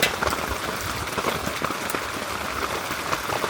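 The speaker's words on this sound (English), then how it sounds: "I don't even know if you guys can hear me over the rain." Heavy rain drums steadily on the roof of an off-grid yurt, a dense, loud, continuous hiss and patter with no voices.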